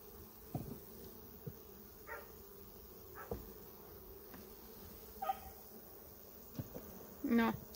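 Honey bees buzz faintly around hives at an apiary, with scattered brief insect passes and soft knocks over a quiet outdoor background, and a louder buzz near the end.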